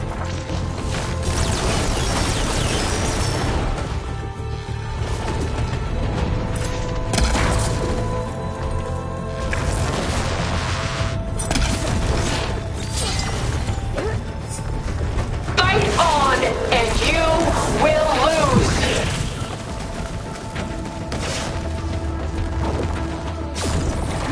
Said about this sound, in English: Fire barrage!